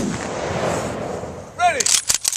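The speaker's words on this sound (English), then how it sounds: "Ready. Aim. Fire." An honor guard fires a rifle volley at a Wreaths Across America ceremony outdoors: a burst of sharp reports comes after a spoken command, the shots loud and close in a short ragged cluster.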